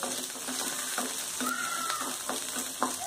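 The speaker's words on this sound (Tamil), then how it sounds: "நல்லா வதக்கி விடுங்க." About 30 to 35 garlic cloves, with chili and urad dal, sauté in oil in a pan for a spicy garlic chutney: a steady, close sizzle with a ladle scraping and stirring every half second or so, and no voices.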